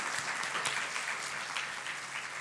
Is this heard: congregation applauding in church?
yes